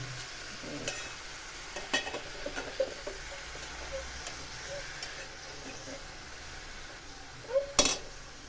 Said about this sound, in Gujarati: મેથી નાખ્યા પછી ધીમે ધીમે હલાવતા જવું